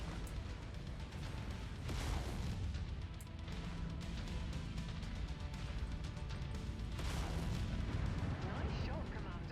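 Heavy weapons fire and explosions boom and crash continuously in the MechWarrior 5 video game, forming a dense, loud barrage with a few stronger bursts standing out amid the din.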